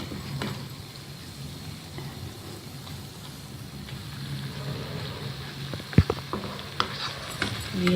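Shakkar paray, a sweet dough made with coconut, milk and ghee, frying in ghee with a constant soft sizzle and occasional sharp pops and clinks near the end, close and quiet.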